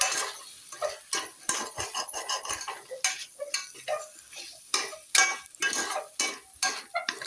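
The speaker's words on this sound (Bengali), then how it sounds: "এগুলো দিয়েও আমি একটু ভালোভাবে এভাবে নাড়াচাড়া করে নেব।" Chicken bharta stirred in a pan with a metal spoon: close, quick clinks and scrapes against the pan in an uneven but continuous rhythm, with no talking.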